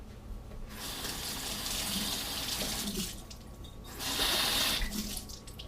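Water runs from a tap to wet a sponge, a steady close splashing stream that briefly quietens, then returns stronger, with no speech.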